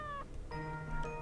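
Cat meows heard in the video game Corpse Party, two tonal calls with a short gap between, fairly close and clear, with no talking over them.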